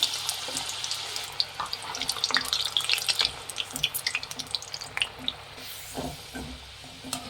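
Peeled, cut potato pieces deep-frying in oil for a cauliflower biryani, a steady crackling sizzle with frequent sharp pops and bubbling that thickens into busier clusters midway, heard close and alone.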